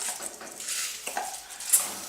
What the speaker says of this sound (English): You want it to sizzle and fry in here.